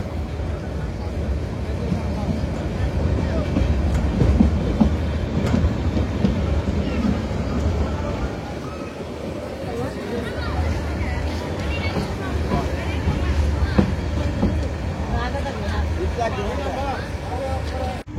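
Titas commuter train pulling out of Amirganj railway station, a steady low rumble of running wheels and engine throughout, with a voice talking over it.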